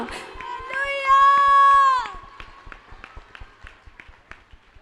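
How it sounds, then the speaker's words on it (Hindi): Church congregation clapping to welcome a preacher, a steady rhythmic patter of hand claps that carries through, with a sustained tone swelling over it midway before the clapping continues alone. "हम उस नबी का, उस दास का जबरदस्त तालियों के साथ स्वागत करेंगे कलीसिया।"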